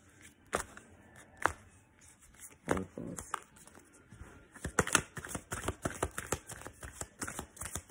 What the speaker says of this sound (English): I like the way it's shuffling cards.